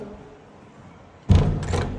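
A house door shuts with a sudden loud thump partway through, after a quiet start, followed by a short rattle as it settles.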